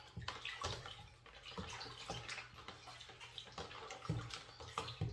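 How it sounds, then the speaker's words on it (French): Shampoo being swirled by hand through lukewarm water in a plate for washing a wig, a continuous close sloshing and splashing with repeated soft strokes. "vous allez mettre votre shampoing dans de l'eau tiède. Et puis, vous allez tourner ça comme ça."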